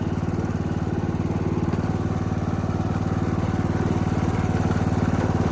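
A budget go-kart built from a lawnmower rolls down a big hill, its small engine putting out a steady, close, buzzing drone with an even rapid pulse throughout.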